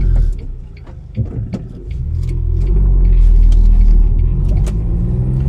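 A £200 Smart car with new brakes and suspension, its engine rumbling low and close from inside as it pulls away, the drone swelling after a few seconds and holding steady.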